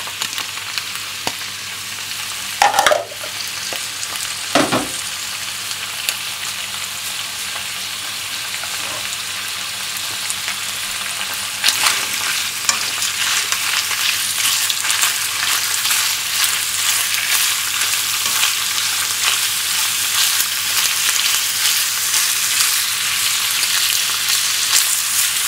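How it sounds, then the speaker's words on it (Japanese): Continuous sizzling of burdock stir-frying in oil in a pan, with a couple of clanks of utensils early on and the hiss growing brighter as it goes. "じゃあ炒めます"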